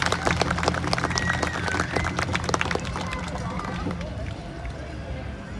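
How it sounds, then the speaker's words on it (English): A crowd applauds an outdoor Canada Day performance at the Bill Reid Amphitheater, clapping densely for about four seconds before thinning out into murmuring and fading. "Let's give a round of applause for all that hard work our ancestors have done."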